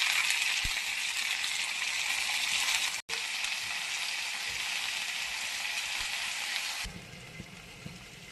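Grated potato hitting golden-brown onions in hot oil makes a loud, even, continuous sizzle with one momentary break, running steadily until it drops off near the end.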